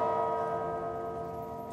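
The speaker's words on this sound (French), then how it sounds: "Les cloches, qui rythment les diverses étapes, sonnent la fin de la messe." Church bells ring at a Russian monastery to mark the end of mass, a sustained, resonant metallic toll with long overlapping overtones, heard alone and fading slightly.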